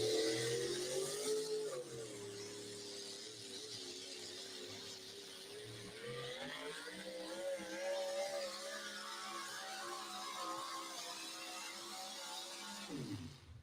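A race car engine on a dirt track in Le Mars, Iowa: a buzzing, revving engine drone that rises and falls as the throttle is eased and reapplied, fairly distant, fading out at the end.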